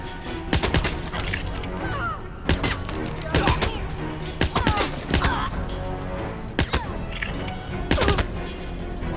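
Gunfire in Hitman (2016) at Sapienza, sharp cracks in irregular bursts and single shots spread across several seconds, loud and close, with some voice activity mixed in.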